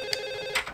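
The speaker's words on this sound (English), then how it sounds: "the phone is ringing" An old-style telephone rings in The Sims, a steady bright electronic tone held through the whole short moment, with faint clicks and no voices.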